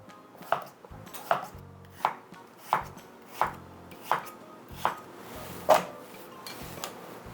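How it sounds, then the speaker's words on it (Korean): A knife slices an old yellow cucumber (nogak) diagonally into pieces about 5 mm thick, eight crisp evenly spaced chops landing on a board close by in a slow, regular rhythm. "약간 대각선으로 5mm 정도 자르면 딱 좋습니다."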